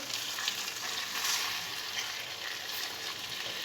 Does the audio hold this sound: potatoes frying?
yes